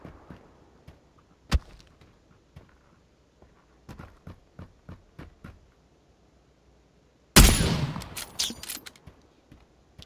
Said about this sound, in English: He's going to take some shots at me and Jeff here in just a second